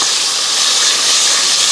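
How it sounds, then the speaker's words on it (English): Steady, bright hissing sizzle of bacon frying in a hot pan, continuous and fairly loud with no talking. "we'll get the bacon into the hot pan. And straight away you can hear that beautiful sizzle."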